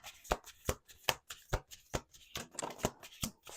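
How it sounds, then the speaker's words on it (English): Tarot cards being shuffled by hand on a table, a steady run of crisp riffling snaps repeating roughly every half second, close and clear with no speech. "Let's do one more shuffle."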